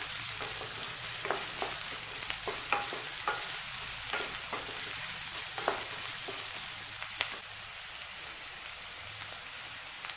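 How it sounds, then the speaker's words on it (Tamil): Finely chopped onions sautéing in a pan for spicy noodles make a soft, even crackling sizzle close by, broken by scattered light taps and scrapes of stirring, with no talking. "சேர்த்துட்டு வதக்கி விட்டுடலாம்"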